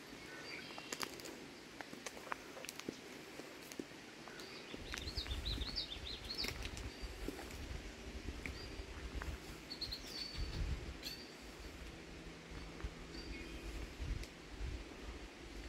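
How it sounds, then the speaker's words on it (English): Wild birdsong in Point Pelee National Park, Ontario: a few faint, brief chirps and warbling calls come and go at a distance, largely masked by steady wind rumble and microphone buffeting. "Anybody know the call of this bird trying to sing for us?"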